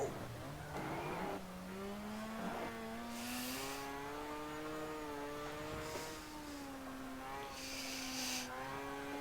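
Mazda race car in a racing video game, its engine revving up and down through shifts and corners with steady rising harmonic tones, a brief tire squeal, and someone speaking over it.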